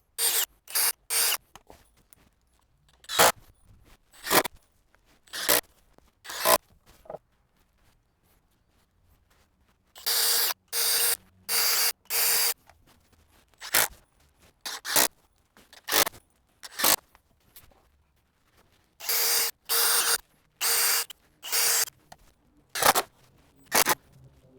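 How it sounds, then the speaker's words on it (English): Screws are driven into wooden parts of homemade tire ramps, heard as repeated bursts from a power drill or driver with short pauses between them. "Now we can screw everything together. One screw into each side will be just fine."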